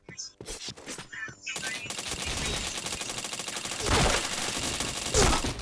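Video game gunfire, dense bursts of rapid automatic shots that run almost without a break and swell in two louder stretches, with a voice speaking briefly near the start.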